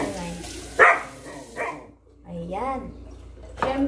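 Dogs at home bark in short, sharp bursts, fairly close, with pauses between them, while someone talks over and between the barks.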